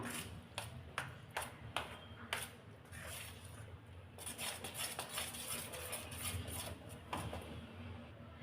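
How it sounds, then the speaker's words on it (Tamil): A spoon stirs sweet paniyaram batter in a bowl to work out lumps, striking the sides in a run of bright metallic clinks and pings, then softer swishing and scraping. "சரி நல்லா கட்டி இல்லாமல் கலந்து விட்டுக்கலாம்"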